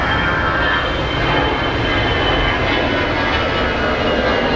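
A jet airliner at Phoenix Sky Harbor airport, a loud continuous engine roar holding steady throughout, with no talking.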